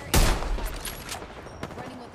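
Video-game gunfire in a ranked battle-royale match, opening with a loud sharp shot followed by scattered bursts and one more distinct crack later, with game sounds behind.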